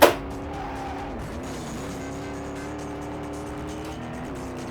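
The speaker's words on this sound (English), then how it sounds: "Do you want to hear an Alfa Romeo sound as a tractor?" A steady, droning Alfa Romeo engine in a Sega Dreamcast game, sounding like a tractor, holds a constant low hum with a faint rising whine, starting with a brief burst and then running evenly throughout.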